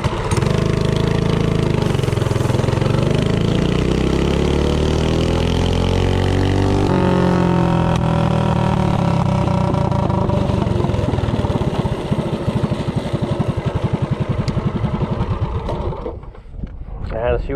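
A DuroMax 208 small engine with a short intake manifold and VM22 carburetor runs loud and steady close by, its pitch shifting as it revs, then winds down near the end.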